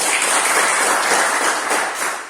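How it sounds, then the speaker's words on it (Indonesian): Students in a classroom clap together in a dense, steady burst that holds evenly and then tapers slightly at the end. "Tepuk tangan untuk kalian semua."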